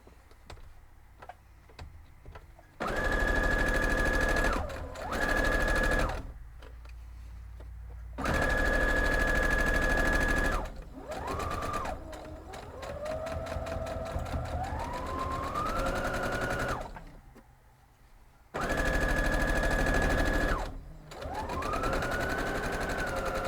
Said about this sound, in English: let's head over and sew that up